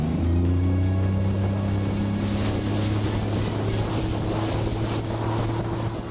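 A motorboat engine roars steadily with a low droning hum as the boat accelerates out of the hole onto plane, wind and water rushing over the microphone throughout.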